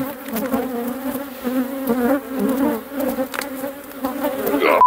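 A honeybee colony buzzes at an opened hive during a chestnut honey harvest, a dense, continuous droning hum with individual bees rising and fading close by, no voices.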